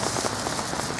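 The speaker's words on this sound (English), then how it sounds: "now the rain's picked up heavy again" Heavy rain hammers on a lake surface at a carp-fishing spot, a dense, continuous hiss of countless splashing drops that is loud and close throughout.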